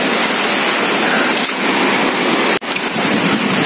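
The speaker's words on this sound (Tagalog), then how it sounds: "Lakas ng hangin guys." Strong typhoon wind at night in Camarines Sur roars as a loud, unbroken rush with a brief dip near the end, sounding close, with no one talking.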